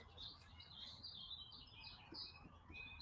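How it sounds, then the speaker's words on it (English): Faint birds chirp and tweet in the distance, a few scattered calls over quiet outdoor background. "I can hear the birds singing though."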